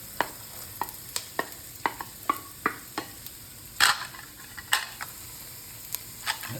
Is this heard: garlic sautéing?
yes